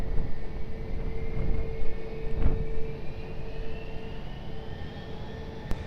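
Jet airliner engines roar in the distance at Lisbon Airport during a takeoff, a broad rumbling wash with a slowly rising whine, steady and moderately loud without speech.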